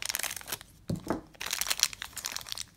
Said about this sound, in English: let's open up the pink box here. Let's see who's in this one. Get my scissors again.